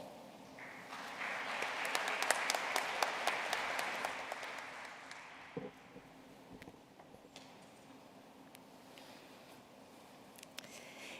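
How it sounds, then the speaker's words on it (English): Applause rises from the audience at a 2021 graduate commencement, fairly strong for the first few seconds, then thins to scattered, quieter claps and faint room noise for the remainder. "we'll give her a round of applause"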